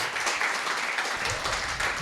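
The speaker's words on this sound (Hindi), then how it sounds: "ताली बजाना तो बजाओ।" Audience applause at a church conference in Mumbai, a steady dense wash of clapping filling the room, moderately loud and continuous with no break.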